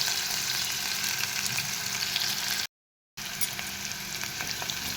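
Onions frying lightly in a pan for paneer bhurji, a soft, steady sizzle close by, broken by a brief total dropout midway before resuming.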